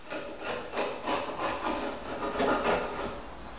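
Loose old paint is scraped off an aged wooden windowsill in a run of steady, rhythmic rasping strokes, close and fairly loud, with no talk.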